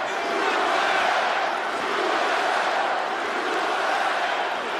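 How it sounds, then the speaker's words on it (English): An MMA crowd roars in a continuous, dense wash of cheering and shouting during a ground fight between Charles Oliveira and Dustin Poirier, loud and steady throughout. "Crowd trying to get behind Porier."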